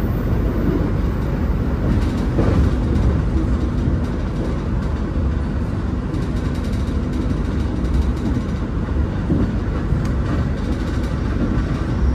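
KA Parahyangan passenger train running on rails near the Cipinang depot, a constant loud rolling rumble with rattling from inside the moving train and no talking.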